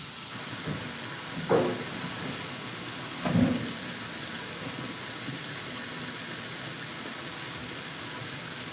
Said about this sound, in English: Hot water faucet.